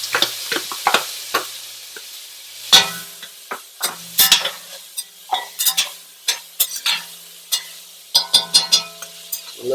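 Peppers and green onions sautéing in a pan for Caribbean-style black beans, with steady sizzling and frequent sharp clinks and scrapes of a utensil stirring, close and fairly loud.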